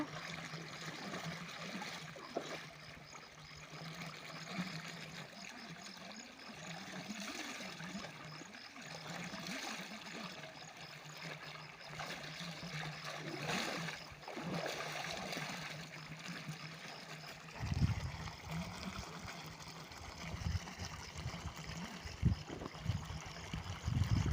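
Water runs steadily outdoors as someone washes up, a continuous trickling splash with scattered clinks and knocks growing busier near the end; no voices.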